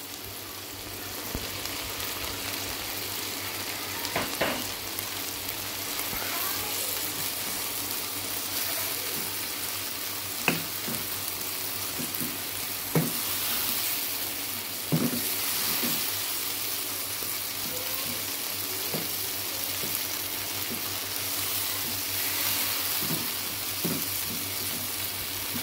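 Garlic, ginger and tomatoes fry in a pan with a steady, soft sizzle running throughout, broken now and then by faint clinks and scrapes of stirring.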